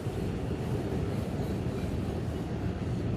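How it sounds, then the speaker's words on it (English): Low, continuous rumble and rattle of a New York subway train pulling into a Manhattan station, a heavy steady roar filling the platform with no voices over it. "I'm gonna be making my way into the train here once it arrives"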